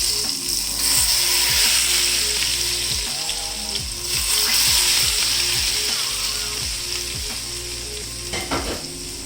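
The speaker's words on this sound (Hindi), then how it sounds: "वही ऑयल जिसके अंदर हमने पकौड़े फ्राई किए थे वो ऊपर से डाल दूँगी" Hot oil left over from frying pakoras is poured over a pot of kadhi with cumin and sizzles steadily and loudly, with a few clattering knocks from the pan.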